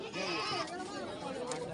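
Goats bleat at the Chakan goat market in Pune, wavering calls heard close by under the chatter of people talking and bargaining.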